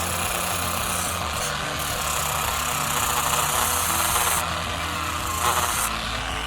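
A felt polishing wheel spins steadily while a small serrated knife's teeth are held against it to clean it, giving a continuous loud motor drone with a hissing scrape and no speech.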